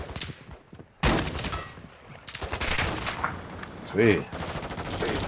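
Rapid automatic gunfire and heavy hits ring out in a Call of Duty: Modern Warfare II firefight. Bursts come in irregular clusters, close and loud, with players talking over the shooting.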